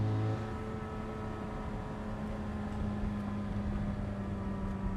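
A Ferrari F430 Spider V8, a rare 2008 manual 6-speed convertible, drones at steady engine speed throughout, a smooth continuous hum with a low tonal note, close and unbroken, with no talk over it.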